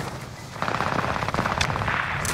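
Rapid automatic gunfire from an online shooter video game rattles in dense loud bursts over about two seconds, with overlapping shots and no talk.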